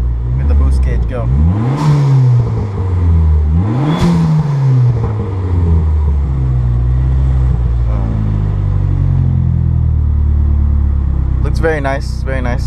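A turbocharged 2004 Dodge Neon SRT-4 with a stick shift revs hard and pulls through rising gears on a test drive, its engine note sweeping up and dropping twice before settling into a steady drone, with a voice speaking briefly over it.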